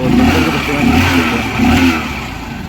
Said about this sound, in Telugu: ఫ్రెండ్స్ చూడండి ఇంజన్ సౌండ్ చూడండి ఎలా ఉందో,